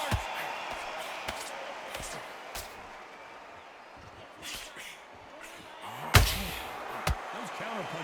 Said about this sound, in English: Those counter punches have to hurt.